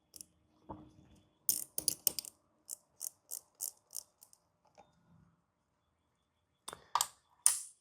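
A ratchet wrench clicks in quick bursts while turning 10 mm bolts on a Mazdaspeed 6, sounding close and crisp, with a short run of clicks and then several evenly spaced strokes and pauses in between.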